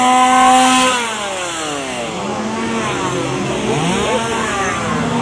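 Chainsaws roar and rev in a Halloween Horror Nights 2025 scare zone, several engines whining up and down in pitch, loud and close, continuous for about five seconds.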